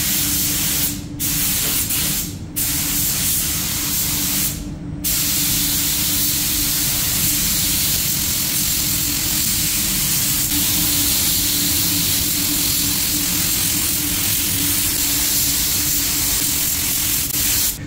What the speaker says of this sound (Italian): gli diamo una mano di lucido diretto molto molto leggera.